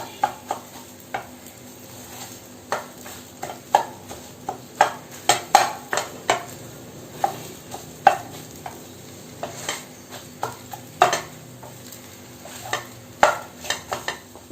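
A spatula stirs and crushes egg thoran in a pan, giving repeated sharp scraping and tapping strikes over a soft sizzle, irregular but frequent, close and alone.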